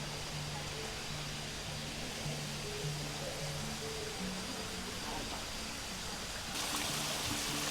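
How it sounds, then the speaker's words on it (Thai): A forest waterfall in Thailand gives a steady, full rushing roar of falling water, loud and continuous, with a low hum and faint voices underneath. "อันนี้มีน้ำตก"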